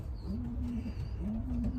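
Wheat check pigeons coo in a loft, two soft rolling coos in a row over a low background hum, close by with no voices.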